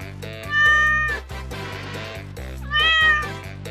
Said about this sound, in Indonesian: Itu suara kucing.